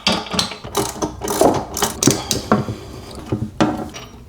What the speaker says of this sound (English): I ended up pulling out my ratchet wrench and a socket in order to loosen it